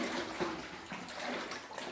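Water splashing and sloshing as people wade through knee-deep water in Capisaan Cave, a continuous close rushing wash with soft irregular surges.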